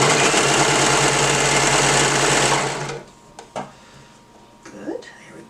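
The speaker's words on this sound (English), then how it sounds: "Now sometimes serger doesn't like to eat this chunky part." A serger sews fabric for a romper, running with a loud, fast, continuous mechanical whir for about three seconds before it stops. A person then talks quietly over light handling noises.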